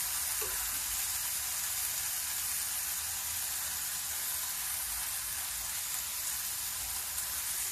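Boiled potatoes dropped into a pan of spinach over a lowered gas flame give a steady, close broadband sizzle that holds evenly throughout with no talking.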